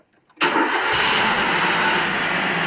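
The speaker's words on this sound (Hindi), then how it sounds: "अभी आपको मैं स्टार्ट भी करके दिखाता हूँ।" After a short silence, a Maruti Suzuki K-series car engine, freshly rebuilt, cranks and catches at once, then settles into a steady, loud idle.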